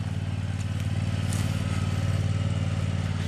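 A commercial zero-turn mower driven around with the blades not engaged, its engine running at a steady low throbbing hum, moderately near and continuous without any voices.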